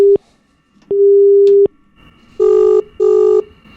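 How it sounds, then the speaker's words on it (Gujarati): Telephone busy tone after a call is hung up: two clear repeating beeps on a phone line, near and loud, with short gaps between them and no talking. "અરે તમે તો ફોન મૂકી દીધો ને"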